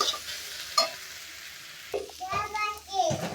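Vegetables sizzle in a pan while a utensil stirs and scrapes in short bursts, with a voice briefly heard.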